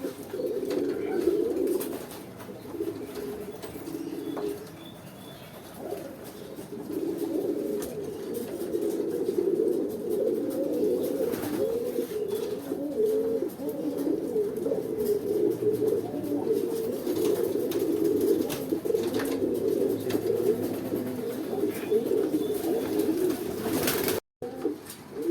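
Pigeon cooing steadily for about twenty-five seconds, a low rolling coo repeated almost without pause, close to the microphone.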